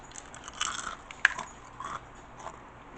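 A single crisp crunch of a bite into air-fried carrot bacon, close up, followed by softer chewing crackles in a quiet room.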